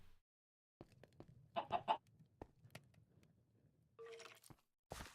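Chicken clucking in a video game, a few short clucks in a quick burst, then a longer squawk and a later call, moderately loud over a low background hum.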